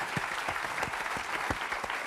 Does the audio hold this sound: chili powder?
no